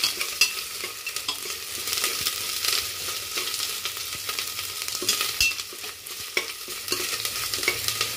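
Ginger garlic paste fries in oil in a pan while a spoon stirs it, busy scraping strokes over a steady crackling sizzle, close and without talk, early in a mushroom biryani.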